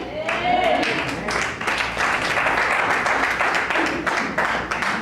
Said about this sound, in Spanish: déjale ese fuerte aplauso que escuché